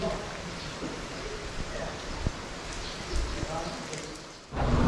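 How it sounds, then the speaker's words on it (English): Steady rain falls during a road trip in Surigao del Sur, Philippines, a dense, even hiss of drops on surfaces with scattered louder patters, continuing throughout, with a voice talking under it. "Yeah, it's just a steady rain."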